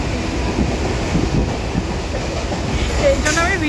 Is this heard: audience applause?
no